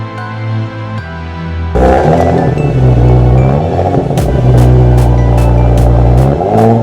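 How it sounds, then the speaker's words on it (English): A 2017 Audi S5 engine revs up loudly, its pitch climbing and falling in surges, close and dominant with no talking. "the car that I bought is an Audi S5"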